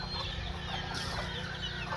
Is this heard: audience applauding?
no